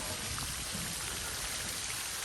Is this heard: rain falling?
yes